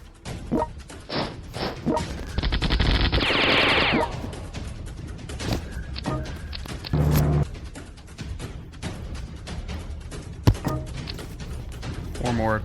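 Airstrike explosions and rattling gunfire in the World Conqueror 4 war strategy game, a dense burst of blasts and rapid shots with scattered booms, playing under steady talk throughout.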